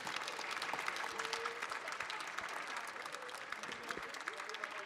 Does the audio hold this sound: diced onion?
no